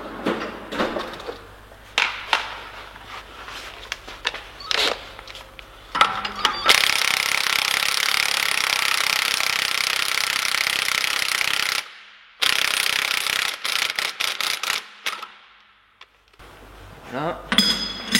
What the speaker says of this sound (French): tu peux finir à la clé à choc